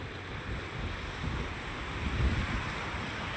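Stormy wind and high sea waves on the Alexandria seafront, a continuous broad roar of surf and gusting wind noise, fairly steady with slight swells and no voices.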